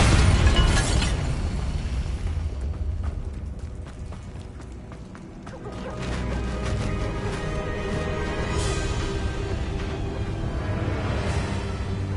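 Bombarda spell cast in the video game Hogwarts Legacy, a loud booming blast opening the clip and trailing into rumbling, crackling game noise with rhythmic thuds.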